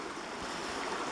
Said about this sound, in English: this is what the babbling brook is supposed to sound like.